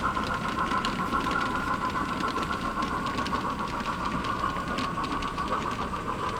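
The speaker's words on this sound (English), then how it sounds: "we're enjoying this ore train" A model railroad ore train hauled by a British 2-10-0 steam locomotive runs steadily, giving a continuous mechanical whir with a sustained hum and faint rhythmic clicking of wheels on track, close and even throughout with no talk.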